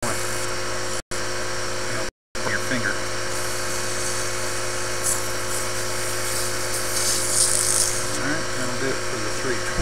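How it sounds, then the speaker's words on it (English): Sandpaper is held against a small bocote wood bead spinning on a lathe, giving a steady high whirring drone with a couple of brief dropouts, and a voice talks over it. "So you want to keep the sandpaper moving so you don't get heat buildup."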